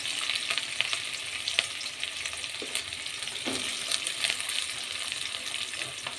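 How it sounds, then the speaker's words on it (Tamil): Onions, garlic and mustard seeds fry in a pan for a bitter gourd gravy, giving a steady close sizzle with small crackles and pops and occasional stirring scrapes, no talking. "கடுகு போட்டுக்கலாம். வெங்காயம் போட்டுக்கலாம். வெங்காயமும் பூண்டும் போட்டுக்கலாம்."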